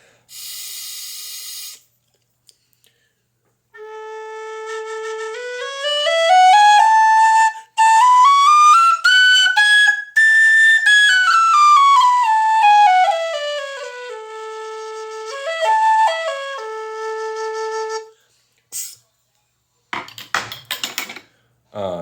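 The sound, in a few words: alto whistle played, hard-blowing whistle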